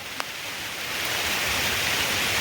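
Heavy rain falls steadily as a dense, hissing wash that swells slightly over a couple of seconds, with one faint tap near the start and no voices.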